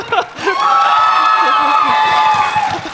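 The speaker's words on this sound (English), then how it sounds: "Give me your pity applause." Convention panel audience at Power Morphicon 2018 cheering and whooping loudly in a sustained crowd roar, with voices shouting over it.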